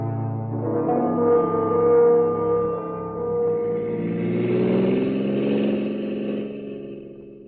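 A car drives along on the way to the airport, its engine humming steadily and swelling and easing as it moves, fairly loud and close throughout, with no voices.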